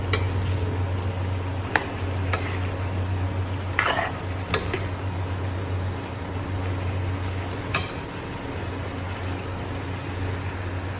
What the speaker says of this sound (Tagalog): So halo-haloin lang natin hanggang mag-combine ng kanyang mga sangkap